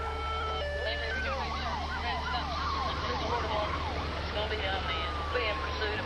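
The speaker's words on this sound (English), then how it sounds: "We turned on red lights and sirens in an attempt to stop him." Police car sirens wail during a high-speed chase of a brown sedan, the rising and falling tones sweeping repeatedly over a low engine rumble and road noise.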